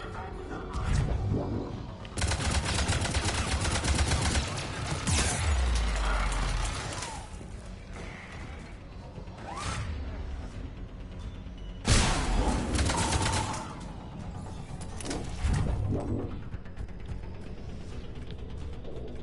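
Turrets firing in the video game Mass Effect 3, bursts of rapid gunfire and blasts in loud clusters separated by quieter stretches, with game effects and faint voices around them.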